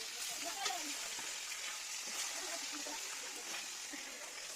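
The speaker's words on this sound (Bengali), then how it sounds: "দেখেন মাছগুলো অনেক ঠাপ ঠাপ ঠাপ করে ফুটছে।" Fish frying in hot oil, a continuous soft sizzle and crackle with scattered pops, heard close but fairly quiet, with a voice talking over it.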